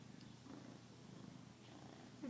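A pet cat purrs softly and steadily up close in a quiet room, the low rumble continuing alone until a brief louder rustle at the end.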